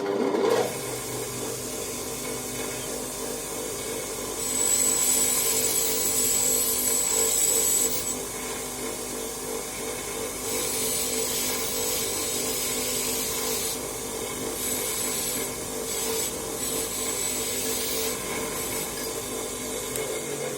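A key cutting machine grinds steadily through a key blank, a continuous harsh rasping whine with brighter, louder stretches as the cutter bites, close and alone without talk.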